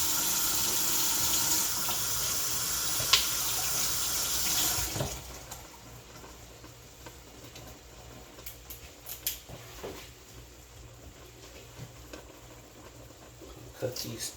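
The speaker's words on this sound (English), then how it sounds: "I'm just rinsing off a knife and my broccoli." Running tap water pours steadily into a kitchen sink while a knife and broccoli are rinsed, a broad hiss that stops after about five seconds, followed by quieter clinks, handling sounds and a voice speaking.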